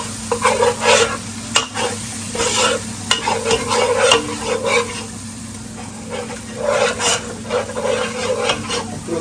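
A pepper spice mixture is stirred in a pan for a fish chili curry. Rhythmic, close scraping and rasping strokes repeat over a continuous sizzle, fairly loud, with no talking.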